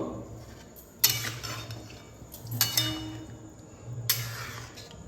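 Boiled chickpeas being stirred into a spice masala in a pan, with three bursts of clinking, scraping utensil strokes against the metal over a low background hum, close up and moderately loud.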